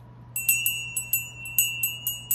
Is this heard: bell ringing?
yes